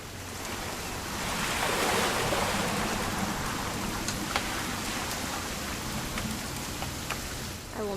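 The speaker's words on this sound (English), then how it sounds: "It's gonna rain the whole weekend, isn't it?" Steady rain falls in the video game What Remains of Edith Finch, a dense, even hiss of drops that holds at the same level throughout, with no voices.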